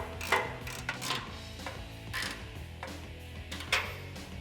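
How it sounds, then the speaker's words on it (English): A 1/2-inch drive ratchet tightening bolts on a steel off-road front bumper of a 2018–2019 Ford F-150, with a few bursts of clicking pawl strokes and metallic knocks close by, with no talking. "I'm just gonna use the 1/2-inch drive ratchet to tighten these down"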